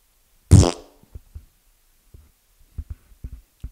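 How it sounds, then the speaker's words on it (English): A fart sound effect played through a tiny 1-inch speaker: one loud, buzzy burst followed by a scattering of faint, soft thumps. "Vaginas can sometimes fart."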